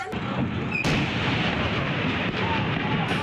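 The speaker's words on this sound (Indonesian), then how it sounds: "Ledakan terus terjadi di lokasi gedung amunisi Armet TNI Angkatan Darat" Dense, continuous rumbling roar of heavy blasts and crackling detonations from an exploding army ammunition depot in Indonesia, loud and sustained throughout with sharp bursts near the start.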